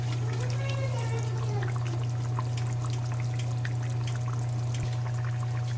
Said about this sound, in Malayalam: ഇതിൽ ഞാൻ ഇപ്പോൾ ടോട്ടൽ 3 ഗ്ലാസ് വെള്ളം ഒഴിച്ചിട്ടുണ്ട്